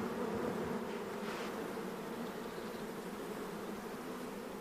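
Killer bees swarm around a beehive, a dense, steady buzzing drone with no voices.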